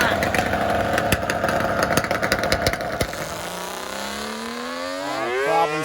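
A Kawasaki H2 two-stroke motorcycle, nitrous-fed, at a drag race: a loud, dense revving engine blare for about three seconds, then a rising, whining pitch sweep as it pulls away, with faint talk beneath.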